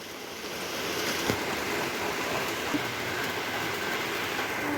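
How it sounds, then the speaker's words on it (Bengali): Steady, dense broadband rushing fills the whole stretch of heavy rain pouring without pause in a village, with no voices. "বৃষ্টি কখন থামবে"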